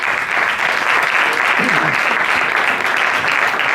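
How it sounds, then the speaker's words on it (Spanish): An audience applauds the mayor at a Spanish awards ceremony, dense, continuous clapping that stays loud and even throughout. "Voy a pedir fuerte el aplauso para nuestro alcalde"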